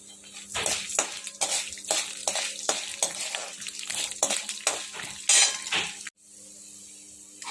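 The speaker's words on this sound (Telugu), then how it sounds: "మినపగుళ్ళు తీసుకున్నానండి ఇది కొంచెం ఫ్రై అవనివ్వాలండి" Urad dal frying in a pan while being stirred, with a quick series of sharp metallic spoon scrapes and clinks over a soft sizzle, close and fairly loud, stopping abruptly near the end.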